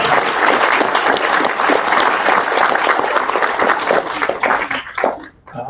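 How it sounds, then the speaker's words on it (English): Applause from the crowd at a Treaty 6 gathering for a grade 12 graduating student, dense and steady clapping for about five seconds before thinning out and fading near the end. "Let's give him a round of applause."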